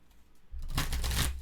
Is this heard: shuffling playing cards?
yes